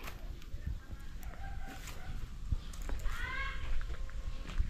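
Chickens on a rural farm in Zambales, with cluck-like calls and a brief crow rising over a steady outdoor background of wind and faint clatter.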